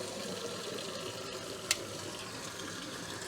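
Cold water runs from a kitchen tap while fresh sweet corn on the cob is washed, a steady, quiet hiss of flowing water with one brief small clink partway through.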